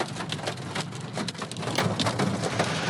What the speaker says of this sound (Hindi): ये बारिश हो रही है ओलों के साथ